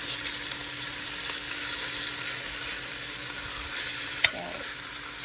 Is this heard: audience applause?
no